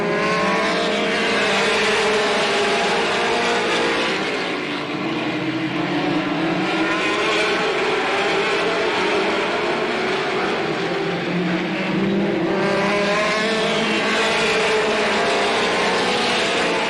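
Late model stock cars racing at Slinger Speedway in 1985, a loud continuous roar of several engines running side by side, swelling and fading as the pack passes close by.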